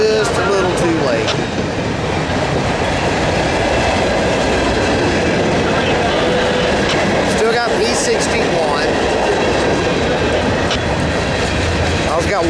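A Norfolk Southern freight train with ES44AC, CW44-9 and C40-9 locomotives rumbles steadily past close by in Charlotte, wheels clacking and faint squeals over a continuous heavy roar.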